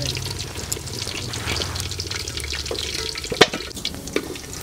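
Potatoes lightly frying in a kadai for a mutton curry make a steady, close sizzle with occasional stirring scrapes and a couple of sharper taps near the end.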